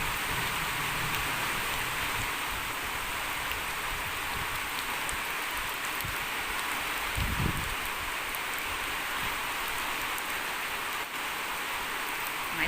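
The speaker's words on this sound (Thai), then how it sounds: "ฝนตกมา" Steady rain falling, a continuous even hiss of drops on surfaces, moderately close, with no voices and only a brief low thump partway through.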